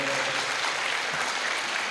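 Seated audience at a Muhammadiyah university gathering claps for a rector being introduced, a brief, even patter of many hands at moderate volume.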